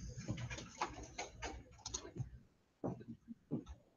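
Computer keyboard typing in quick irregular bursts of clicks, close and moderately loud, with a brief pause before a few final keystrokes; no talking.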